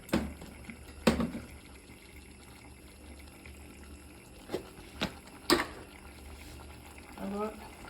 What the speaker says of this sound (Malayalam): കുറച്ച് വെള്ളം മാത്രം ഒഴിച്ചിട്ട് നമുക്ക് ചിക്കൻ വേവിച്ചെടുക്കാം